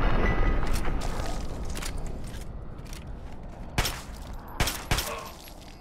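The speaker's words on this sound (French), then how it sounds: "Ouais, c'est une petite explosion quand même." An explosion in Fallout 3's Operation Anchorage add-on opens with a loud, rumbling blast that fades away, followed by a few sharp, separate bangs.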